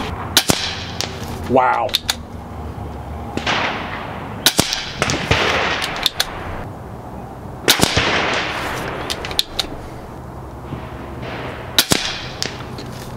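Several sharp, loud reports from an ATI Nova Liberty shotgun firing cup-based slugs, spaced irregularly across the stretch with some closely paired, outdoors with a brief voice exclamation early on.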